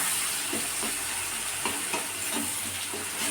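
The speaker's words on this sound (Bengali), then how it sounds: "দিয়ে এবার এটা ভালো করে নেড়ে নেব।" Chopped green chillies and half a spoon of sugar being stirred in a frying pan, a constant hissing sizzle with regular soft scrapes of the spatula, close and steady, no voices.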